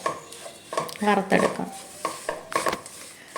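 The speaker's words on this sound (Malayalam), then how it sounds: "ഇതായിട്ട് നമുക്ക് നന്നായിട്ടൊന്ന് മിക്സ് ചെയ്ത് കൊടുക്കാം" Chili powder being stirred into oil in a pan while making lemon pickle: a utensil scrapes and rubs against the metal in short, uneven bursts, close by, with a faint sizzle underneath.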